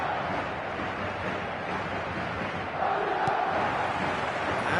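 A stadium crowd on match day roars in a steady, dense wash of cheering, swelling slightly louder partway through with no talk over it.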